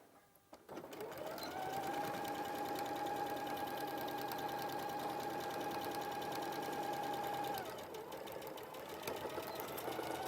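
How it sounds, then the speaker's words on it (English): A sewing machine stitching fabric runs steadily at close range for about seven seconds with a whirring hum, then slows and stops. "So I should just stitch that into place."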